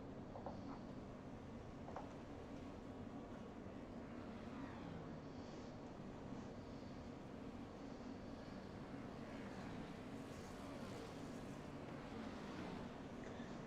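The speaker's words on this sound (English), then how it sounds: "Did you see that simulated flyover?" Simulated military jet flyover in an iRacing NASCAR broadcast at Richmond, a steady broad engine roar that swells faintly near the end, mixed under race-car engine drone with no voices.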